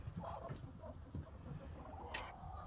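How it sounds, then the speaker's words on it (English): Broody hens cluck outdoors among farm animals, giving low, close, irregular clucks and soft murmurs, with one brief sharper call near the end. "I got broody hens everywhere."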